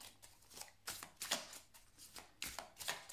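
Tarot cards are cut and shuffled in a string of crisp, papery riffling bursts with short pauses between, close and fairly quiet, with no talking.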